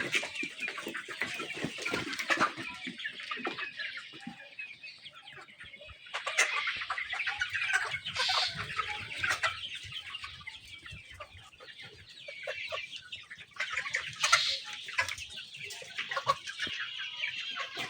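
Chickens on a poultry farm clucking and squawking in overlapping bursts, many birds close by, with busy flurries rising and falling against a quiet shed background.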